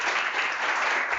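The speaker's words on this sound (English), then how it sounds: "let's thank all the speakers in the session one more time." An audience at a planetary systems conference session claps steadily for the speakers, a dense wash of applause that holds at an even level throughout.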